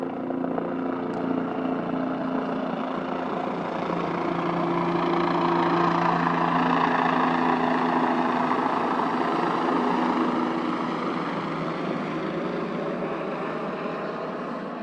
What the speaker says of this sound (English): we're going to let that helicopter pass by.